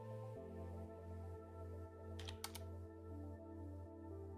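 Quiet clicking of typing on a computer keyboard, faint keystrokes over a steady electronic hum, with a brief cluster of sharper taps midway.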